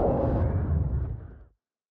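A single bomb detonates in Warhammer Vermintide 2, a dense booming roar that holds strong for about a second before fading out and cutting off abruptly, with no talk over it.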